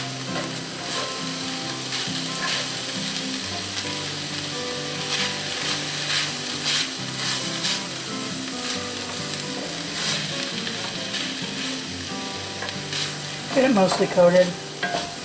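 Venison hamburger mixture sizzling in a cast iron skillet while being stirred, steady frying hiss with scraping and clanking spoon strokes throughout, a few louder clatters near the end, and a brief voice speaking over it.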